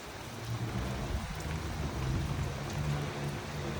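Heavy rain pours down in the Qatar desert in a dense, continuous hiss with low rumbling underneath, constant and fairly loud, with no voices.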